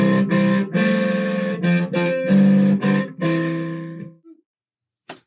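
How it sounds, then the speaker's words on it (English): A loud, gritty distorted synth plays a string of chopped notes with buzzy harmonics, then cuts off into silence with a brief click at the end. "I can add distortion"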